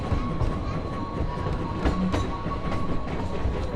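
A Halloween ride train runs steadily with a low rumble and clattering wheels, fairly quiet, under a faint background of voices.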